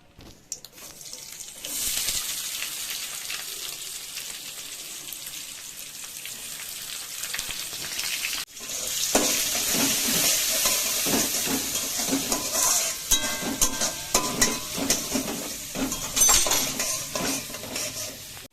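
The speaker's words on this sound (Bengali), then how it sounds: "এবার আমি দিয়ে দেবো কুচনো পেঁয়াজ।" Chopped onions frying in hot oil with curry leaves for a masala dosa filling give a steady, close sizzle with stirring and scraping, which swells louder midway and continues with no talk.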